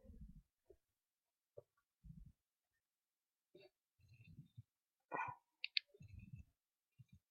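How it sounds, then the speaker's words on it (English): A dog making short, scattered low grunts and bark-like sounds with quiet gaps between them, near and faint, with a few clicks. "this was my dog"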